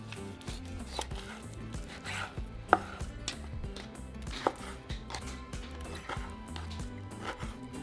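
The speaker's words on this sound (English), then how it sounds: "we're going to grab our meat and we're going to cut it into 1/2 inch small cubes" A knife cutting pork into half-inch cubes on a board, soft uneven taps and slicing strokes at close range with a couple of sharper knocks, fairly quiet and without talking.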